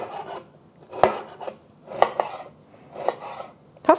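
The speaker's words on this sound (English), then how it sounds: "I'm just gonna cut this down into smaller sections so that I can slice it along the grain" A knife slices beef flank steak into smaller sections on a cutting board. Close, rasping strokes arrive roughly once a second, each ending in a firm tap on the board, with no talking.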